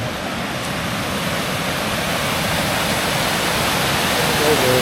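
Water of a creek on Mackenzie Creek Trail, Vancouver Island, runs as a steady, broad rushing wash that stays fairly loud and even throughout, with no voices over it.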